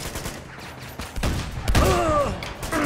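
Gunfire from a shotgun and other weapons in the Uncharted 2 video game cracks out in several loud, close bursts mixed with thuds and mechanical clatter during a firefight.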